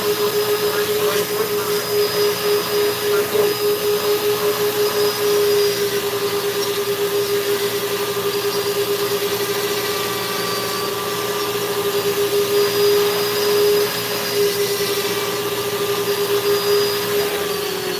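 A Kutzall rotary burr carves a wooden bear, digging out the nose: a loud, steady high whine from the rotary tool that keeps going with slight surges as the bit bites into the wood.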